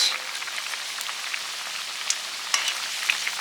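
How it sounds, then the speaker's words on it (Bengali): Pieces of fried katla fish hiss and crackle in hot oil as they go into the pan, a steady rain-like sizzle with a few sharp pops, close and loud. "এবার ভেজে রাখা মাছগুলো দিয়ে দিচ্ছি কাতলা মাছ"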